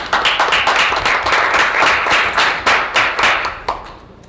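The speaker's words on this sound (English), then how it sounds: "Thank you for the applause." Enthusiastic applause at a Woodbridge Township council meeting, a modest group of hands clapping in quick uneven bursts that fade out near the end.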